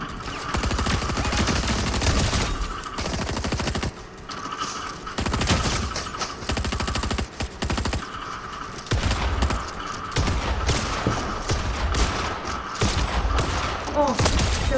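Rapid bursts of gunfire in the video game Fortnite, loud and dense, with automatic volleys repeating in choppy clusters across the whole stretch and brief gaps between them.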